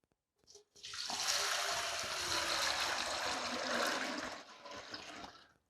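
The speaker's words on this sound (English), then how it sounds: "I'm going to add water to the kettle." Water pours steadily into a kettle nearby for several seconds, a continuous splashing rush that starts abruptly and tapers off at the end.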